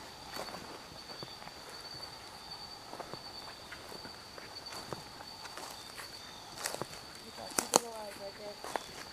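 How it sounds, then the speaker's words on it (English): Footsteps crunch through the woods at night, a series of faint, irregular steps close by with a louder cluster near the end, over a steady high insect drone and hushed voices. "I gotta go towards the footsteps."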